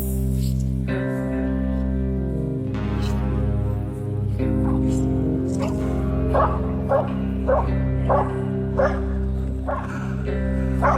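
Hunting dogs bark and yip repeatedly at a wild hog in a swamp, the barks close and loud in an irregular series over a steady low rumble.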